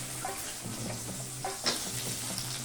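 Shallots fry in a steel pan for pepper chicken with a steady, moderate sizzle, broken by soft scraping stirs and a few brief metallic clinks; no one speaks.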